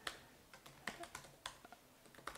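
Fingers type a password on a computer keyboard at a sign-up form: a dozen or so light, irregular key clicks, close and quiet, with no talking.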